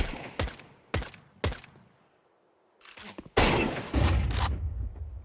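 USP pistol fire in a Counter-Strike match: three sharp, separate shots, a short pause, then a denser burst of overlapping gunfire and impacts, close and punchy.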